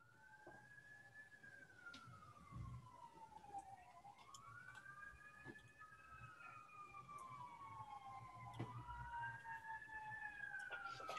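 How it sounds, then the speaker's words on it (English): Wailing sirens rise and fall in long sweeping tones, distant and fairly faint, over a steady background hum with no talking. "I do hear sirens somewhere,"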